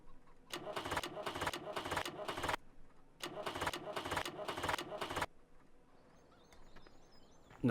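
A Massey Ferguson 698T tractor in Farming Simulator 17 fails to start, with two loud cranking attempts of rhythmic starter chugs, each cut off abruptly without the engine catching, followed by quiet with faint clicks.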